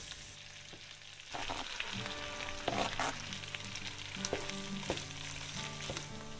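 Butter melting and sizzling in a pan with rosemary and garlic added, a bright, steady crackling hiss that swells as the pieces go in, close up and without speech.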